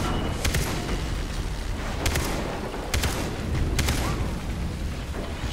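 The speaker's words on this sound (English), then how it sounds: "I gotta shoot the pipes!" Gunfire in the shooter game Far Cry 3 as the player shoots pipes, a few sharp cracks over a dense, rumbling background of game noise.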